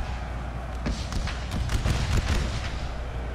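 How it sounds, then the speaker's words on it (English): Rapid bursts of video game gunfire from an American Civil War battle crack and thud in dense volleys, some close and some distant, building toward the middle. "Listen to the gunfire."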